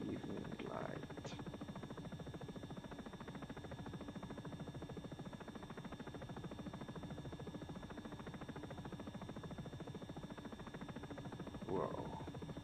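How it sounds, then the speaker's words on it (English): Helicopter flying over Prague's old town in evening light, heard from inside as a steady, faint rotor and engine drone with a continuous buzzing hum throughout, and a couple of brief voice fragments. "I just seen the shadow of the helicopter."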